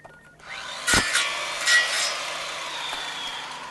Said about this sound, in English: Saw.